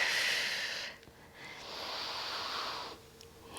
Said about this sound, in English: Breathing through this.